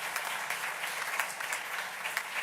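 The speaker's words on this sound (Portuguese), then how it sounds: "e para eles damos também uma salva de palmas" A church congregation claps together at a Sunday Mass, a steady burst of applause filling the room for a couple of seconds.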